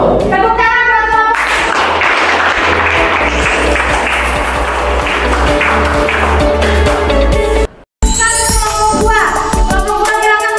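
Classroom applause for a student group, dense clapping from many hands filling the room steadily, with children's voices mixed in, broken by a brief dropout before the clapping resumes.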